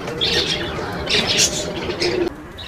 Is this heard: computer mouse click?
no